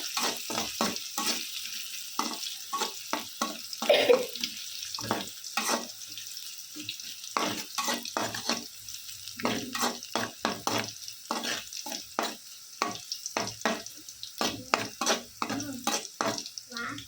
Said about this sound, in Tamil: கொஞ்சம் பூண்டு பொன்னிறமாக ஆகட்டும்.